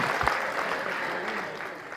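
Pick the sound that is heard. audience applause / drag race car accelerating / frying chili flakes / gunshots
audience applause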